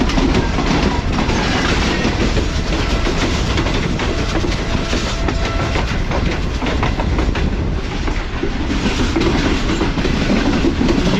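Shalimar Express train running on rails near Malir Colony railway station, a loud steady rumble with continuous clickety-clack of wheels over track joints throughout, close by and unbroken.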